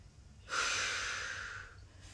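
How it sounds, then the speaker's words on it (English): A single close breath during a pilates glute stretch, with a strong airy exhale that rises suddenly, holds steady for about a second, then fades into quiet room tone. "Inhale for a breath. Exhale."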